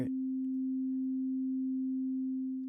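A six-module synth patch holds one sustained low tone while its low-pass filter cutoff is modulated, giving a smooth, warm drone with faint rippling overtones, steady and alone.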